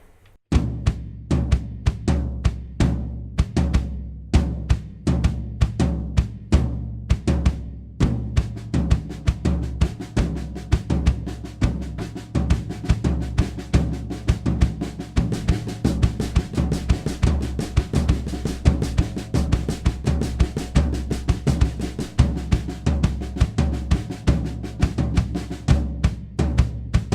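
A drum kit plays a five-stroke bass drum pattern with accents, dense rapid kick and cymbal hits in a steady driving rhythm, loud and close, continuous for the whole passage with no talking.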